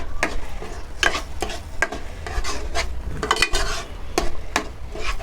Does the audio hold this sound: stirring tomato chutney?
yes